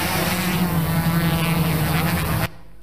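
A drone flying over a landfill site gives a loud, steady buzzing drone with a constant propeller whine, close and unbroken, then cuts off abruptly near the end; no talk.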